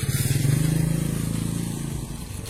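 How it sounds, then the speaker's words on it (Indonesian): Suzuki Satria FU 220cc motorcycle fitted with a custom aftermarket exhaust, idling with a steady low rapid pulsing burble, close and moderately loud throughout. "cek sound dari motor gue nih, si Sukro. Kita pakai knalpot bintang nih"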